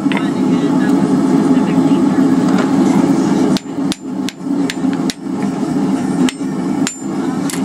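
A blacksmith's hammer pounds down a forged tenon in a series of sharp, uneven blows over a loud, steady roar, likely a forge, with someone talking nearby.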